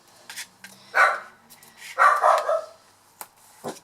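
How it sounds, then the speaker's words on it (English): A dog barks a few times in short bursts, with two stronger barks in the middle and faint yips at the end, fairly close. "That's why she's barking."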